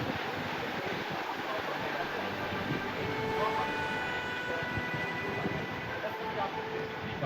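Inside a moving LG special railway train in Odisha, a steady loud rumble and rattle of the carriage runs throughout, with a faint murmur of voices.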